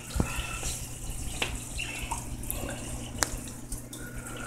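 Water splashes and gurgles through the baffles of a DIY aquarium sump on a 75-gallon reef tank, a close, constant trickling rush with a few brighter drips and splashes on top.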